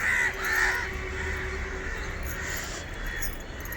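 A crow on a rooftop garden gives a few loud, harsh caws close by at the start, then the calls soften and trail off under a steady outdoor hum as rain clouds gather.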